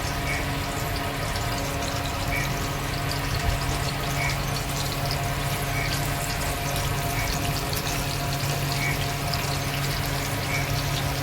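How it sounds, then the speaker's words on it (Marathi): Pomfret fish fry in hot oil on a heated pan for a Malvani Konkani recipe, giving a steady, dense sizzle that stays loud and even from start to finish with no voices over it. "आता मी तवो गरम झाला, त्याच्यात तेल टाकले आणि आता हे मासे सोडून घेते त्याच्यात फ्राय करूसाठी."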